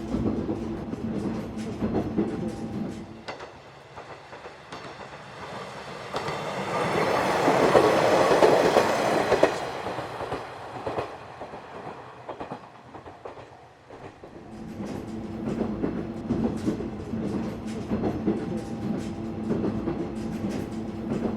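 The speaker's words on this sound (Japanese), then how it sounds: "列車はあと少しで日本海に出ます。" Japanese local train on the Oito Line in winter, running toward the Sea of Japan, with a steady rumble and rhythmic wheel clatter that swells into a louder passage midway before settling back.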